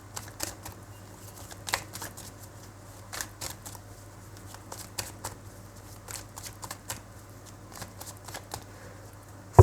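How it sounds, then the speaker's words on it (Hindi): Tarot cards are shuffled close by in a quiet room, with rapid irregular riffles and soft flicking clicks that come in uneven bursts over a low steady hum, ending in a sharp final snap. "फाइनल शफल बाबा जी"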